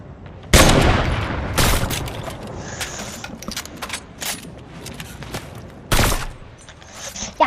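Gunfire in a Fortnite match, a few sharp loud shot bursts spaced seconds apart with smaller clicks and game effects between them, close and punchy.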